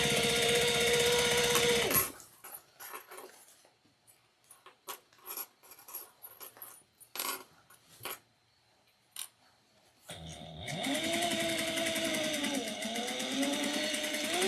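A sewing machine runs in two bursts while stitching and back-stitching a seam on a triangular shoulder bag, loud steady whirring at the start and end with quiet handling clicks in between.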